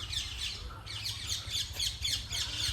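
A Muscovy duck in an aviary at a deer park sits among squawky bird calls: a series of rasping, chirpy bursts that come and go in quick succession over a faint low hum, moderately near.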